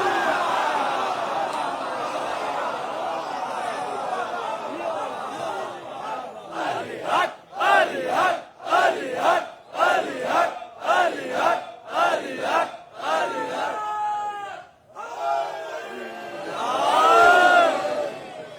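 A large crowd at a Ramadan religious gathering shouts a rhythmic religious slogan in repeated bursts, loud and roomy, with a sustained voice before the chant and a rising collective cry at the end.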